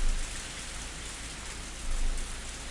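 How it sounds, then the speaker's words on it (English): Heavy rain in a video game pours steadily, a dense even hiss filling the whole stretch with slight swells in intensity and no voices. "the sound of the heavy rain"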